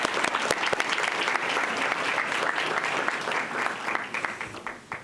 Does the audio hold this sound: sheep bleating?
no